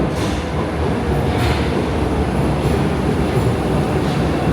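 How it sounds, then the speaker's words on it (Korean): A Paris metro train rolls into a station with no platform screen doors, a loud, continuous, close rumble and roar of wheels and cars that fills the whole stretch. "파리 지하철인데 칸막이가 없죠. 생각보다 아찔합니다. 여서 있으면 전철이 지금 들어오는데"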